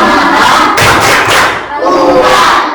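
A school class chanting together in a loud group call-and-response while clapping in rhythm, with bursts of voices and claps filling a classroom.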